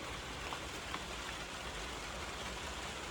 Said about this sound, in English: Love the sound of the rain in the greenhouse.